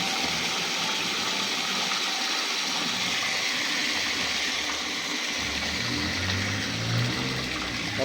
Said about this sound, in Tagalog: Hanggang mawala na po yung pressure niya o yung tubig.